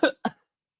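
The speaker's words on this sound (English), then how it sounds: "Coffee went down the wrong hole, and I had to cough." A person gives two quick, sharp coughs close to the microphone after coffee went down the wrong way, then falls silent.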